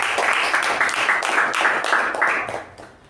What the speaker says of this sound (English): Let's give her a good round of applause.